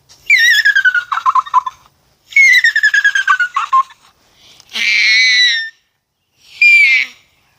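A person's voice mimics a bald eagle with two chattering, stuttering high whistled calls followed by two longer, shrill screeches, loud and close with brief silences between.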